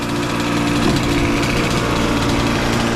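A drift trike fitted with a 420 hp dirtbike engine revs hard as gears are slammed, a loud, close, buzzing engine drone that stays steady and unbroken for a few seconds with no voices.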